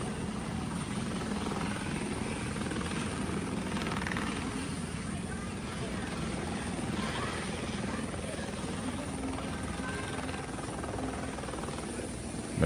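A helicopter sets down nearby, its steady rotor chop and engine drone holding throughout at moderate loudness, with faint background chatter mixed underneath.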